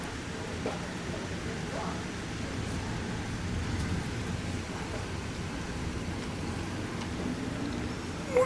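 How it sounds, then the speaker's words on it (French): Steady rain from a thunderstorm in Bordeaux falls as a constant broadband hiss with scattered drops and faint distant rumbles, continuing throughout. "il commence à pleuvoir, les amis"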